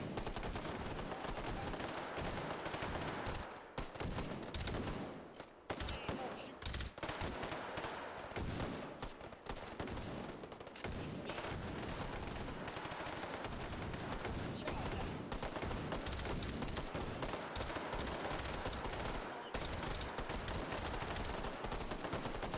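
Dense, loud gunfire from the VR shooter Hot Dogs, Horseshoes & Hand Grenades, with rapid automatic bursts and overlapping shots going almost without pause and only brief gaps.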